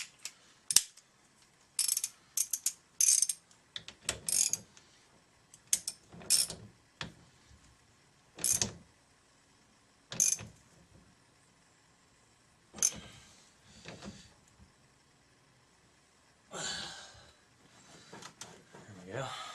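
Ratchet wrench turning a 19 millimeter nut during an airbag clock spring repair, heard as repeated short bursts of quick clicking separated by pauses, fairly close and moderately loud, with some faint talk between bursts.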